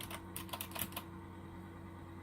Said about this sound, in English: this spacebar is a little noisier than the other keys